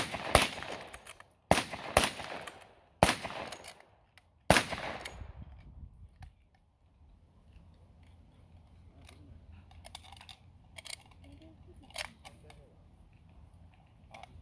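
Blank-fired rifles crack out a rapid volley during Great War musketry training: several sharp, loud reports in quick succession over the first few seconds, then faint distant pops and murmuring voices in the open air.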